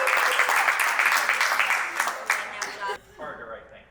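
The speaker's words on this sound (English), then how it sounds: "A round of applause for" Wedding guests applaud together in a dense burst of clapping that carries for a few seconds, then thins out and fades toward the end.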